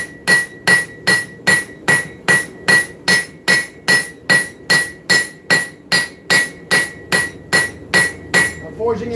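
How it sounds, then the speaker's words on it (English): A hammer forges bevels into a seax knife blade, striking loudly and close in a steady rhythm of about twenty ringing metallic blows, evenly spaced and alone. "I'm forging in bevels while I'm doing this too."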